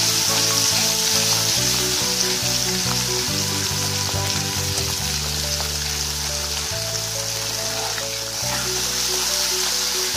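Masala paste frying in ghee for Kashmiri dum aloo, a loud continuous hiss and crackle with soft stirring scrapes underneath and a low steady hum running throughout.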